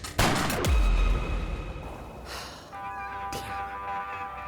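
A single sharp gunshot cracks close by during a gray fox hunt in Virginia, its boom decaying over a second, followed by quiet outdoor ambience and faint calls.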